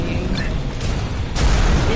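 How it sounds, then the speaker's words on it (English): Cannon fire in the video game Visions of Mana: heavy booming blasts with a loud low-end burst near the end, layered over game music and effects. "Oh, I hope we get to fire the cannon at it."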